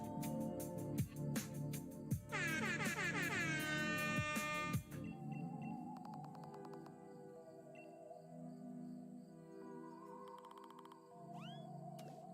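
Air horn sound effect blasting in bursts alongside other quick synthetic tones and chirps, mostly faint and electronic, with no talking over it.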